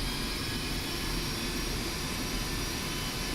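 The jet engines of a Su-25T Frogfoot in the DCS flight simulator run steadily after a cold start, a constant loud roar with a thin high whine and no pauses.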